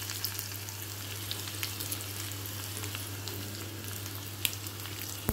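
Mustard seeds, cumin and dried red chillies crackle in hot oil for a South Indian tempering, a steady close sizzle dotted with small pops and spits over a low constant hum, and no one speaks.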